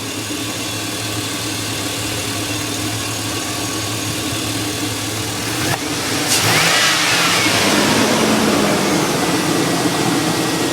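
A 2000 Chevrolet Silverado 4x4 extended cab pickup engine runs steadily at a low idle, then picks up a slightly louder, rougher rumble partway through, heard nearby outdoors with no talking.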